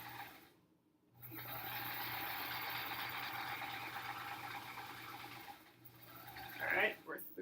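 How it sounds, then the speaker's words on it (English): A sewing machine stitches the long edge of an hourglass quilt block, running as a steady close whir for several seconds after a brief pause, then starting again and stopping near the end. "So we are sewing that long edge."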